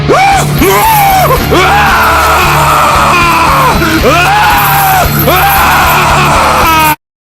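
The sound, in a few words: Halloween prop animatronic screaming and yelling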